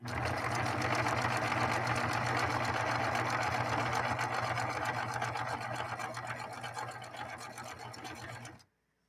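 A Singer 9410 sewing machine stitches at a fast, even pace, its close, steady mechanical whir and needle clatter running for several seconds before slowing and stopping abruptly.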